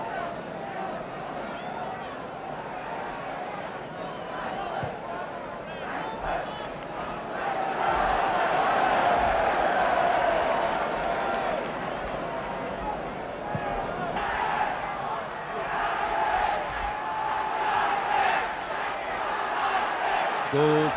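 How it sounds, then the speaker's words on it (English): A 1969 football crowd at an Arsenal versus Leeds United match jeering a Leeds player, a broad distant roar of voices that swells midway, under steady commentary from a man. "And you're getting a little bit of bird from the crowd"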